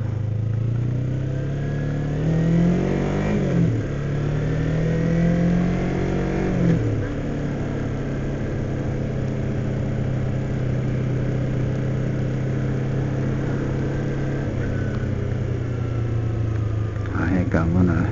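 A 2007 Kawasaki Ninja 250 engine runs close by, a steady droning hum with a couple of brief rev rises and falls, continuous throughout.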